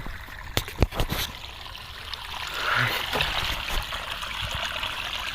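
Water from a farm irrigation pipe trickles and flows in a steady, moderate stream, with a few sharper knocks near the start and a voice briefly heard.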